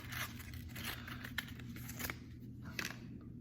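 Packaging of a Qwick Trim brisket meat and silver skin trimmer being opened, soft crinkling, tearing and scraping of plastic and cardboard, quiet and close with a few sharper rustles.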